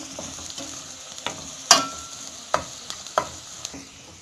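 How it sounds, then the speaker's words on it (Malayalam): Ingredients for a Kerala-style prawn curry stirred with curry leaves in a pan, giving close scraping and knocking strokes over a soft sizzle. "ഇതിൻ്റെ കൂടെ വേപ്പിലയും ആവശ്യമാണ്, എന്നാലാണ് സ്വാദും മണവും കിട്ടുകയുള്ളൂ. ഇങ്ങനെ ഇളക്കി കൊടുക്കുക."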